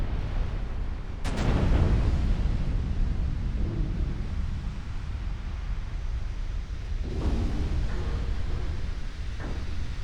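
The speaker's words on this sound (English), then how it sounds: "A few more battleship hits as well." In a naval warfare video game, shell hits on battleships land as deep booming explosions, with one sharp loud impact followed by rumbling and several more distant thuds over a steady low background roar.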